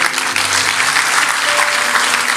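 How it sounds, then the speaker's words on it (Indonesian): A church congregation applauds during a Christian sermon, with dense, steady clapping filling the room loudly and evenly from start to finish. "Kasih tepuk tangan untuk Tuhan."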